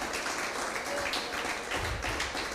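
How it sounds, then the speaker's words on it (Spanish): A church congregation claps together in praise, a moderately distant, dense patter of many hands that rises and falls over a couple of seconds, with faint voices mixed in. "Dele palmas al Señor, pues."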